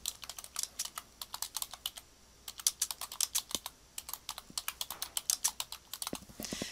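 Typing on a computer keyboard, close and clear: bursts of quick, uneven key clicks separated by short pauses, with a louder spacebar-like thump now and then, no voices.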